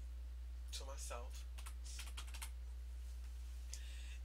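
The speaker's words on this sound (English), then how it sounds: "Now when I'm going to type a test message to myself." Someone types a short test message on a computer keyboard, producing quick close clicky keystrokes in uneven bursts over a steady low hum, with a brief pause before a final few taps.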